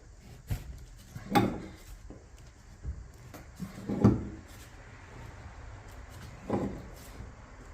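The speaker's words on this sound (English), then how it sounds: "Definitely hearing some creaking." Wooden boards of an old abandoned house creak and knock while the structure is jacked up, scattered short groans and thumps at irregular intervals, fairly close in a quiet space with no voices.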